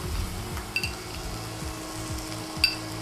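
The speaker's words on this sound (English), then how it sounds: "So continue frying your pork." Pork frying in a pan for sweet sticky pork, a steady close sizzle with stirring scrapes and a couple of faint metallic clinks.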